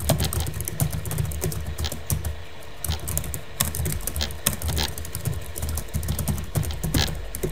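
Keystrokes on a computer keyboard while writing a LaTeX document, a steady run of close, light clicks and taps with no talking.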